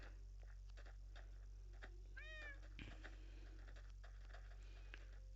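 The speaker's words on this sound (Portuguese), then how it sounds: "Olha o tanto de gato que eu criei" A faint cat meow in Minecraft Pocket Edition rises briefly amid soft ticks, patter and a steady low hum, quiet and somewhat distant.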